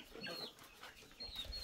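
Chickens on a farm with cows nearby, soft clucking calls rising and falling at moderate distance, two short bursts separated by a brief lull, with no talking.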